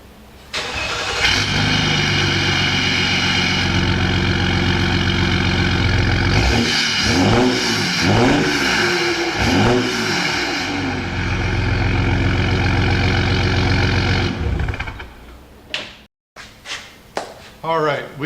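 A Jeep Grand Cherokee EcoDiesel with a FloPro exhaust starts up and idles with a deep diesel rumble, then revs several times in a rising-and-falling series before settling and shutting off, with occasional talking over it.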